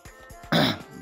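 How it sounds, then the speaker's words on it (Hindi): A single loud, harsh cough bursts out in the middle of a short pause, with faint breathy sounds before and after. "माफ़ करना थोड़ी खांसी हो गई है"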